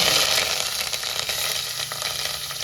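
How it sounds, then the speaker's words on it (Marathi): Finely ground masala sautéing in a pan for a traditional Junnar maswadi curry gives a steady, close, moderately loud sizzle with soft crackle and no talk. "हा एकदम बारीक असा वाटलेला मसाला हा मसाला तर इथे चांगला परतला जातोय"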